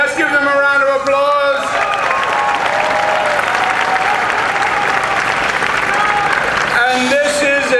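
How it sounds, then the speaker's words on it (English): A large crowd at an outdoor New York rally breaks into sustained, loud applause. A voice speaks briefly at the start and again near the end over the continuous clapping. "Let's give them a round of applause."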